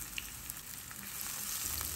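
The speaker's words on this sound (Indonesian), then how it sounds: "Panaskan sedikit aja minyak goreng, terus kita tumis dulu jamurnya tanpa bumbu-bumbu ya." Mushrooms sauté in a little hot cooking oil with no seasoning, giving a quiet, steady sizzle and faint crackle throughout, alone without any talk.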